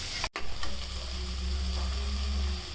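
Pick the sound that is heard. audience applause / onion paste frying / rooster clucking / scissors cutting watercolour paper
onion paste frying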